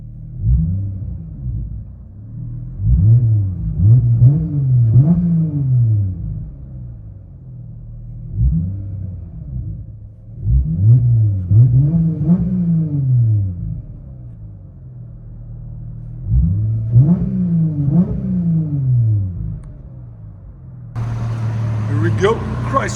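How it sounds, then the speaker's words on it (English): A Chrysler 300 V6 with a BIGBOZ mid-pipe, rear delete, tips and cold air intake, heard from inside the car, revs in three repeated bursts, each rising and falling as a deep, loud drone over a steady idle rumble. "Chrysler 300 V6 with BIGBOZ mid, rear delete, and tips"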